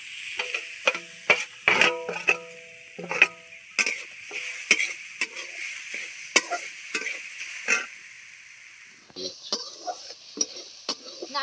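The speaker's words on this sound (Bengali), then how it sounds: "নারকেলটাকে আমি একটু নাড়িয়ে নিয়েছি" Grated coconut being stirred in a pan where sesame was just toasted, with a spatula scraping and clicking in irregular strokes over a faint sizzle, close up with brief pauses.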